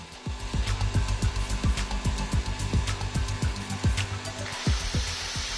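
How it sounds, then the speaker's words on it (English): A power tool motor runs steadily and loudly, pulsing in a regular rhythm throughout. "We're going to connect this drill."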